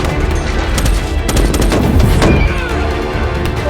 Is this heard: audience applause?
no